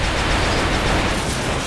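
A single gunshot fired during an XCOM turn-based tactics battle, a loud, dense burst of noise filling the whole moment with no talk.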